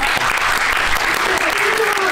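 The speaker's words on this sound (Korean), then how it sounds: "네, 우리 초등학생 분들께. 네, 박수 한번 부탁드릴게요." A cinema audience at CGV Yongsan applauds during a post-screening stage greeting for the film Tae-il: loud, sustained crowd clapping that fills the room, with some voices mixed in.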